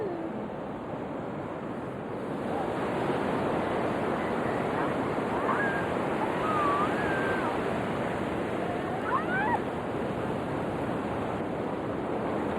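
North Sea surf washes onto a beach in a continuous broad roar, steady and fairly loud, with wind buffeting the microphone and faint distant voices.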